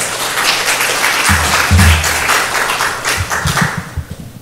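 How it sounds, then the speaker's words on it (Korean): An audience at a 2021 lifelong-education symposium in Ulsan Buk-gu applauds to welcome a speaker, a dense burst of clapping that swells and then thins out over a few seconds, with some low thumps mixed in. "환영의 박수 부탁드리겠습니다"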